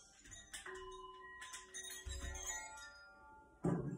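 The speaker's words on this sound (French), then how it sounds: "au prochain gong, on viendra s'asseoir tout doucement sur le tapis" A gong struck during a children's yoga session gives quiet metallic strikes whose tones ring on and slowly fade, with a louder thump near the end.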